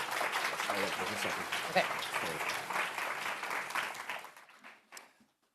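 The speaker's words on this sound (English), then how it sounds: "can you give a big round of applause to our 3 adopters" A conference audience claps for three panel adopters, a dense round of applause under a speaker's voice that thins out and fades to quiet near the end.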